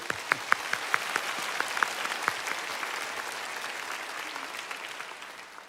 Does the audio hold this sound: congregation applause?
yes